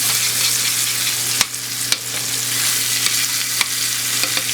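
Pork chops stuffed with Fontina cheese fry in a pan alongside sliced garlic, giving a steady, loud, close sizzle with a few sharp clicks and bumps from the pan.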